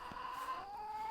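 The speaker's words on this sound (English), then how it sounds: "Hey, these chickens, they won't shut up." Chickens in a backyard coop give a short, faint burst of clucking and a drawn-out squawk, close by with no talking.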